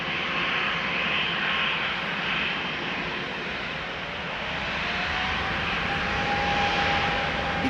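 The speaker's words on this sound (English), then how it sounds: "E2 Embraer 195 to Belgrade on the move." An Embraer E2 195 jet airliner, a KLM flight, taxiing at Amsterdam Schiphol Airport, its engines giving off a loud, steady roar and whine that holds throughout, with a faint tonal hum rising near the end.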